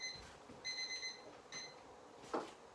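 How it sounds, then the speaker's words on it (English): A kitchen timer goes off while jelly is being made, giving three short bursts of quiet, high electronic beeps close by, then a soft knock. "there's my timer"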